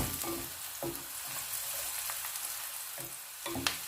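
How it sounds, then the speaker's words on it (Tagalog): Garlic browning in hot oil for a Filipino ginisang repolyo with chicken, a soft steady sizzle with occasional spoon stirs and clinks, close by and without speech. "mag-brown na yung ating garlic"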